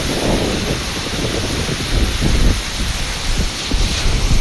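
Loud, continuous roar of rough surf churning against the shore as a typhoon approaches, with gusting wind buffeting the microphone and no voices.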